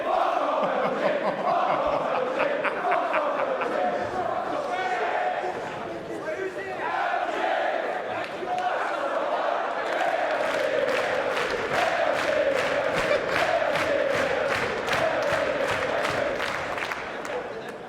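A large crowd at the CWL London 2019 esports event roars and chants, shifting midway into loud rhythmic chanting punctuated by steady unison claps, with no talking over it.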